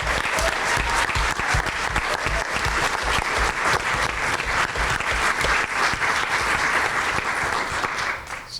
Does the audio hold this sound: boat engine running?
no